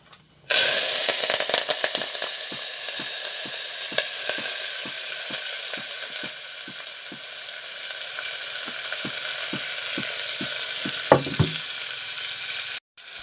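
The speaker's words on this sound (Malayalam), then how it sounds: "ഇനി അതിലേക്ക് ഇതാ ഇഞ്ചി കരിവേപ്പില പച്ചമുളക് സവോള കേട്ടോ ഇതിട്ട് കൊടുക്കുന്നുണ്ട്" Ginger, curry leaves, green chilli and onion dropped into hot oil for a potato masala curry, a sudden loud sizzle that holds steady with rhythmic stirring scrapes and a clatter near the end.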